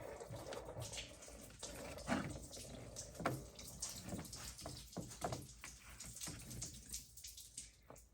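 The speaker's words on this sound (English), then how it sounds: "That allows coolant to come out of that hose." Coolant trickling and splashing from a removed radiator hose on a 2005 Honda CR-V during alternator replacement, an irregular close watery pour with small drips, fairly quiet.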